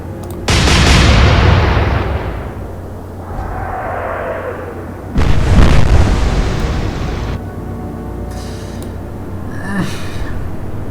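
Naval gun salvo from warships in Atlantic Fleet, a naval video game: two loud, close booming volleys a few seconds apart, each with a long rolling tail, then fainter distant thumps, with no voices.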